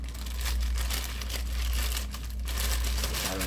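Plastic bags crinkle and rustle while a game controller from a mini retro console collection is unpacked. The handling noise comes close and steady over a strong low hum.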